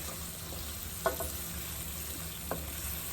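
Curry paste with curry powder and smoked paprika powder cooks in a pot, giving a soft steady sizzle with a couple of sharp scrape or stir clicks.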